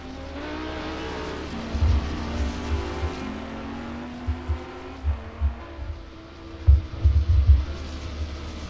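Race car engines in a racing video game, high revving tones sweeping and shifting as cars pass, with several deep low-end bursts and rumbles toward the end, no talking over them.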